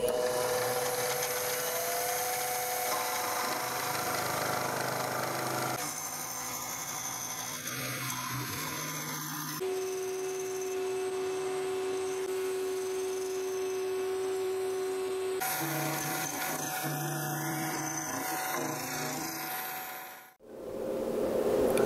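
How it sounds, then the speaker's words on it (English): A milling machine fitted with a big router bit hogs out wood in multiple depth passes, giving a steady, loud high-pitched whine that shifts pitch between passes. The motor winds down near the end, with no talk. "I'm going to do that on the mill using a big router bit."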